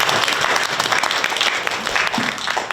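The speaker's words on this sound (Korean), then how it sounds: "이사장님께 다시 한번 뜨거운 격려의 박수 부탁드리겠습니다" An audience applauds a chairperson at a youth cooperative's sponsorship event, a dense, loud burst of clapping that continues steadily throughout.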